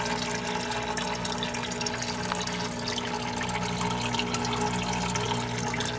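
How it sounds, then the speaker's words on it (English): Water from a 1-inch PVC drain pipe pours steadily back into a hydroponic reservoir, a loud, continuous splashing rush with no pauses. "The drain is coming off of some 1-inch PVC, pumping back into the reservoir."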